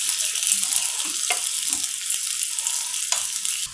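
Finely chopped onions for a raw mango charu fry in a hot pan with a loud, steady sizzle, broken by a few soft clinks and scrapes of the spoon.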